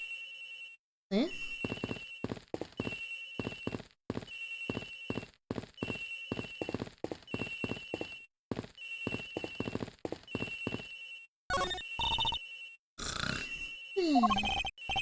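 A cell phone rings over and over in the Ace Attorney Investigations game, a repeating electronic ringtone in short regular bursts with brief pauses, under game sounds and a few short voice grunts.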